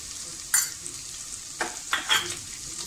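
Mixed spice masala being stirred and sautéed with ginger and garlic while cooking a bottle gourd and chana dal dish, with a faint steady sizzle and a few soft stirring scrapes, no talking.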